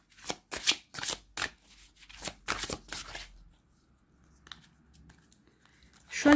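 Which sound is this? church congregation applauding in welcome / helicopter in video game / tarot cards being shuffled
tarot cards being shuffled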